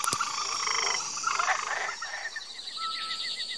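A frog croaking, with rapid, repeated chirping calls and trills, rather high and rhythmic, heard near and moderately loud over a faint natural background with a sharp click at the start.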